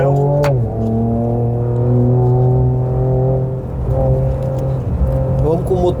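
A 2025 Ford Ranger Raptor pickup engine pulls hard at full throttle on a mixed stone and sand track, a loud steady drone rising through the gears with a shift midway, close and continuous under the cabin.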